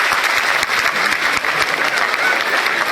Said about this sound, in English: I want you to applaud so that people around you know that I got it right with you.